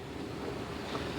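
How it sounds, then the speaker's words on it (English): Strong wind gusts rush across a microphone on the coast at New London, a steady, loud, noisy roar with no pauses. "those wind gusts are definitely starting to pick up a little bit"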